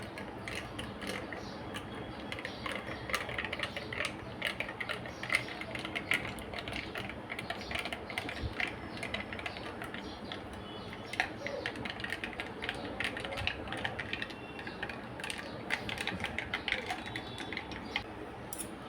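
A spoon stirs chilled raw-mango panha with ice cubes in a glass, producing a quiet, rapid, uneven clinking and rattling that runs steadily for almost twenty seconds with no voices.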